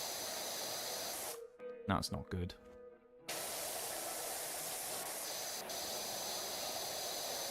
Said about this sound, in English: Putting a nice... lovely water spray all over the pickups on it.